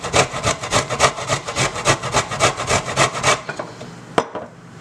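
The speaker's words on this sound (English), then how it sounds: "So let me go ahead first and grate it." Fresh ginger rubbed quickly back and forth across a grater, a rapid rhythmic rasping of about twenty strokes, close and loud, ending in a lighter scrape and a single small knock.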